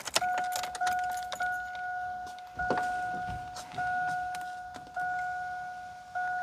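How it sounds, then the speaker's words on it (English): A key slides into the ignition of a 2004 Astro van, with a few metallic clicks and jangles. A steady two-tone door chime then pings over and over, and more faint key rattles come through it. "Let's grab the key here. Stick it in the ignition."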